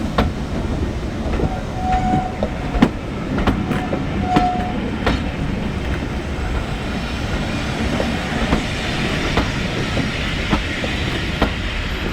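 A steam train rumbles steadily into a station at close range on the West Somerset Railway, wheels clattering over the rails, with a couple of brief squeals and no voices.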